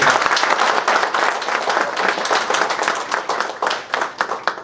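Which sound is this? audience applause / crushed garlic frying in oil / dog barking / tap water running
audience applause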